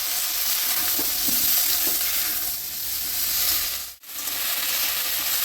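Pumpkin stems and potato pieces fry in hot oil with a steady, loud sizzle, and scattered stirring scrapes come through. The frying holds level throughout, broken by one short cut near the end.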